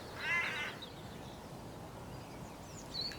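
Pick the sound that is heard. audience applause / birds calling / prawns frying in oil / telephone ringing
birds calling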